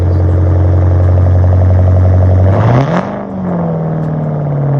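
A Ford Mustang with halo headlights, a muffler bleed and a muffler-delete cage pipe runs loud and steady, then lets out a sharp rev near three seconds before dropping to a lower, even idle.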